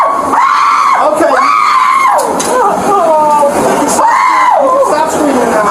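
A woman screaming during an arrest at an airport, loud and close, in long, wavering wails repeated three times, with other voices and a bustling background around her.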